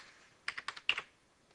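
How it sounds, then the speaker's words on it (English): Short burst of computer keyboard typing, about six quick clicks and taps in an irregular rhythm, close and fairly quiet, heard alone with no talk. "I hit tab on my keyboard"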